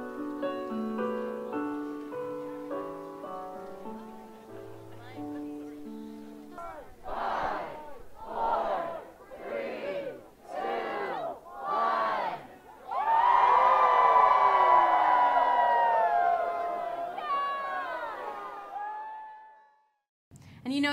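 After a short stretch of music, a crowd at a Christmas tree lighting in Sanders Court shouts a countdown in five loud rhythmic bursts, then erupts into sustained cheering and whoops that fade out.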